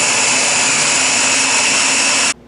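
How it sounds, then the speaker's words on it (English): A blender whirring loudly and steadily through black bean brownie batter, a constant high-pitched motor drone that cuts off abruptly near the end. "we're going to blend this up, get everything all smooth"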